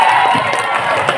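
Crowd at the closing ceremony of Tanjungpinang Fest 2024 and the Kopi Merdeka coffee festival clapping and cheering loudly for the city government, a dense wash of applause with shouts rising through it.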